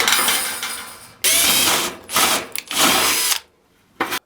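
Cordless battery-powered Revolt rivet gun setting a rivet into sheet metal, giving three loud whirring bursts separated by brief pauses, then a short final buzz after a silent gap.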